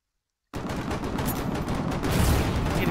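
Gunboat shells firing in the war game Foxhole erupt after a half-second of silence into a dense, continuous barrage of loud blasts and crackling impacts that swells slightly louder toward the end.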